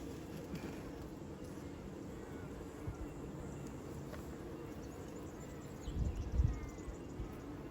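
Bees from an open top bar hive buzz steadily at low level during an inspection, a soft continuous drone with a brief louder burst near the end.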